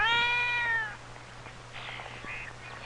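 A kitten gives one clear, close meow that falls in pitch, followed by softer faint rustling and small mewing sounds.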